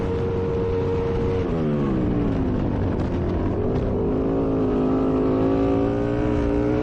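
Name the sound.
flat track racing motorcycles on a dirt track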